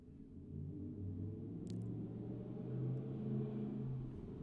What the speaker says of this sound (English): Is there actually any need for people to have car engines or car trumpets like that?